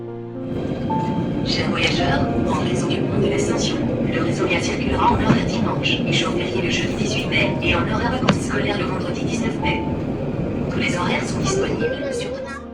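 Steady rumble of a modern tram in Le Havre, France, rolling along rails, with clattering and squeals throughout, passenger chatter audible in the background.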